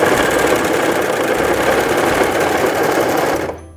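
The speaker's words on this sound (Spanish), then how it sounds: "presionando el pedal para comenzar a coser" A Brother CV3550 coverstitch sewing machine runs in one close, loud, continuous burst of rapid mechanical whirring and needle chatter for a few seconds, then stops abruptly near the end.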